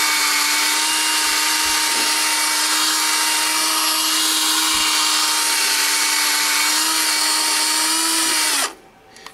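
Power tool sanding a plastic arcade joystick shaft during a Wico joystick restoration, a loud steady high-pitched whine that holds for several seconds, then spins down and cuts off near the end.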